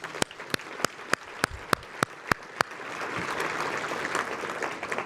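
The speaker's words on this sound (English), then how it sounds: "Let's give our sponsors a round of applause." Sharp, evenly spaced claps ring out one at a time, then swell into a steady wash of applause from many hands at a banquet, applauding sponsors.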